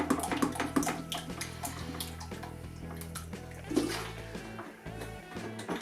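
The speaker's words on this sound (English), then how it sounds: "I'm just going to put some water in there to just top it up" Water poured from a tap into a pot to cover a ham, splashing and gurgling unevenly with low rumbling hum beneath, heard close.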